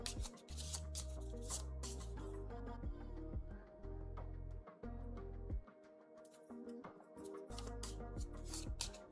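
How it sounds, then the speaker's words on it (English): Cards shuffled for a card game, with repeated riffle bursts and quick flicking runs, close and fairly loud over a steady musical background. "Bro is shuffling for sim game."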